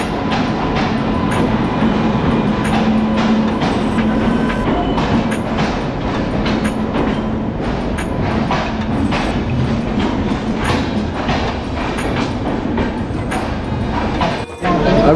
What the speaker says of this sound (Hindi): अभी हम लोग की ट्रेन देखिए आ चुकी है यहाँ पे प्लेटफॉर्म नंबर 3 पे